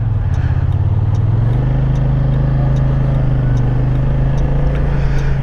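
Car engine in town traffic with a steady mid-pitched drone that shifts slightly as the vehicle slows to a stop, close and loud with no talk.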